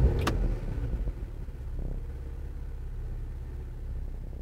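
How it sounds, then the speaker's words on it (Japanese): A 2016 Porsche Macan Turbo with PDK starts with a brief click, then settles into a quiet, low idle rumble heard from inside the cabin. "ではエンジン始動していきます。"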